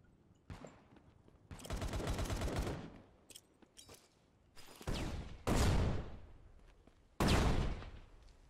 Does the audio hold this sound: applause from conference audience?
no